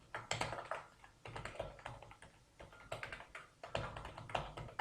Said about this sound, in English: here we will type the password and sign up